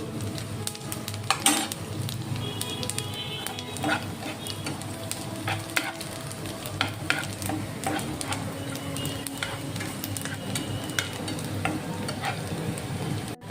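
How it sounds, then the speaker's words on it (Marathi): Garlic frying in oil until golden for momo chutney, with a steady dense sizzle and occasional scraping stirs throughout, close and continuous with no talking. "गार्लिक छान असं गोल्डन ब्राऊन होईपर्यंत होईपर्यंत भाजून घ्यायचं आहे"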